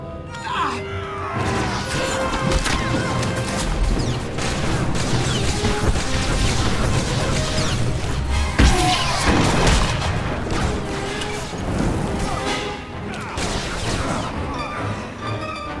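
Blaster gunfire in a Star Wars: The Old Republic battle on Alderaan, a dense, continuous barrage of zaps and booms under loud music, with brief shouting near the start.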